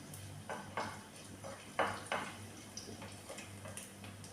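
Garlic frying in a pan for a carrot fry, with a faint background sizzle broken by a series of close metallic taps and scrapes of a spoon against the pan, irregular and sparse.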